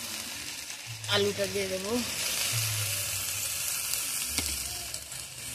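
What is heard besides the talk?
sautéing prawns with taro stolons and potato in a pan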